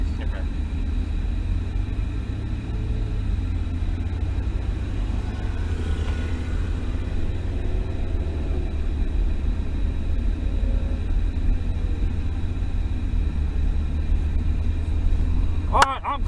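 Steady low engine rumble from a Ferrari 488 GTB rolling toward the track at the National Corvette Museum, a continuous near drone heard from inside the car with a brief sharp click near the end.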